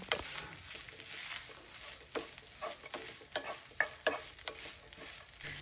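Grated coconut and sesame sizzle softly in ghee in a pan, with scattered scraping taps from stirring throughout. The sound is quiet and close.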